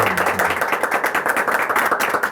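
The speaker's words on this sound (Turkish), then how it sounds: "Alkışlar Eray'a gelsin" A studio audience gives a sustained round of dense, fast applause, loud and steady throughout with no talking, for Eray Can Özkenar.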